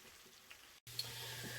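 Philly cheesesteak meat and vegetables cook in a pan with a soft, steady sizzle that cuts out briefly and resumes slightly louder with a low hum underneath.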